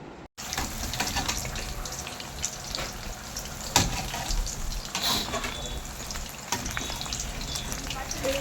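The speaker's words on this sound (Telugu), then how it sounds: "సో ఇప్పుడు మొత్తం బాగా ఫ్రై అవ్వనివ్వాలి." Chicken lollipops deep-fry in hot oil, a dense, steady crackling sizzle that stays loud and close throughout, with a few sharper pops rising briefly above it.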